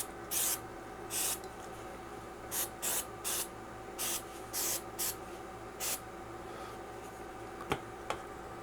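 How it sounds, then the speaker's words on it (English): Short spray bursts of glue accelerator hiss one after another, about ten quick pumps in an uneven rhythm, followed by a couple of faint clicks. "you could take a little bit of accelerator and just spray those spots"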